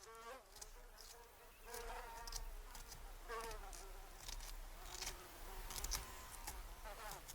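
Bees feeding among a group of insects, a steady close buzzing drone of wings with rising and falling whines as individuals move near and away, continuous throughout.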